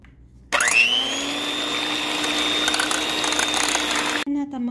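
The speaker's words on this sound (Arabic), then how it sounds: "هنا هبتدي اول حاجة بخفق البيض" An electric hand mixer whirs steadily as it whisks four large eggs with vanilla for a carrot cake batter, starting abruptly, holding a high constant motor whine for nearly four seconds, then cutting off as a voice speaks.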